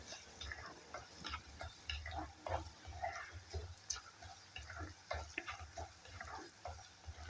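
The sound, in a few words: fish curry masala frying in coconut oil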